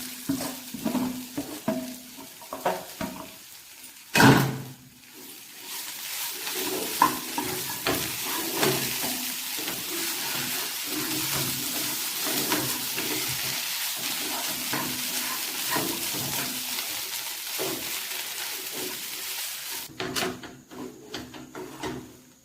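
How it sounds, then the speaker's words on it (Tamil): Potatoes and green peas fry in a pan while being stirred, a steady sizzle running throughout with scraping stirs and occasional clanks of the utensil against the pan, close and fairly loud, no talking. "இந்த உருளைக்கிழங்கையும் இதை போட்டு இது ரெண்டையும் போட்டு பச்சை பட்டாணியும் போட்டு ஒரு கலரி எடுத்துருவோம்"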